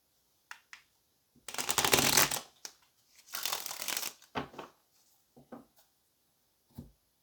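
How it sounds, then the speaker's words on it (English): Tarot cards are shuffled in close, crisp bursts: a long riffle, a second flurry, then scattered taps and soft card knocks in a quiet room. "let's get one more shuffle"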